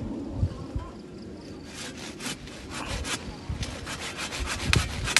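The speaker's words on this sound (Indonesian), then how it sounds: "Potong dengan gergaji." A hand saw cuts through wood in steady back-and-forth strokes, rasping bursts repeating close by and fairly loud, with faint background noise between strokes.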